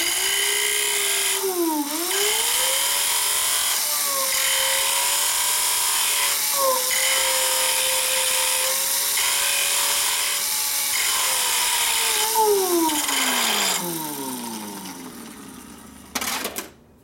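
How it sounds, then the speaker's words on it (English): A medium grit sander grinds a brake shoe during repair work on a 1965 Harley-Davidson Panhead 74ci FLH. The loud, steady whine dips in pitch each time it bears down on the work, then winds down and stops near the end. "Nice medium grit sander."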